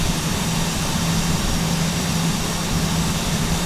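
An aircraft on approach to Zurich gives a loud, steady engine drone with a low hum that pulses faintly, continuous and close throughout, with no voices.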